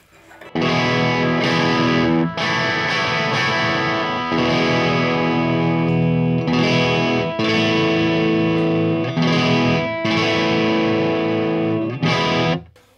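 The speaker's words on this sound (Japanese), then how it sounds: "やっぱりクランチぐらいの歪みでもすごく綺麗な音がしますよね。" A Gibson Les Paul Special with P90 pickups plays chords through crunch distortion, loud and sustained, with short breaks between strummed phrases.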